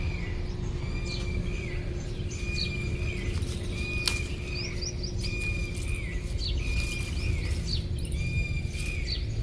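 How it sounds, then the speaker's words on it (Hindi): Many small birds chirp and tweet in quick, repeated bursts around a vegetable garden with sunflowers and eggplant plants, fairly close and steady over a constant low outdoor hum, with no talking. "चिड़ियों की चहचहाट कितने शानदार, मस्त"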